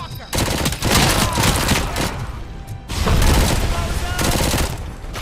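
Sustained bursts of automatic gunfire in RoboCop: Rogue City, loud and dense, two long volleys separated by a brief lull, with explosive thuds and debris crashes mixed in.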